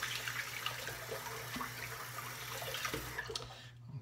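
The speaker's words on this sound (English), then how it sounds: "rinse my hands off of that" Tap water runs steadily over hands being rinsed after a wet shave with a Muhle R89 safety razor and Feather blade, a close, even splashing that cuts off just before the end.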